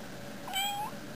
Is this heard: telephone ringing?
no